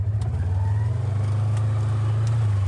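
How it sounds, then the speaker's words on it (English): A Gator utility vehicle drives toward a river with its engine running steadily, a close, loud, low rumble that holds even throughout, with no talking. "I think I'm just gonna drive the Gator out there, at least as close as I can get"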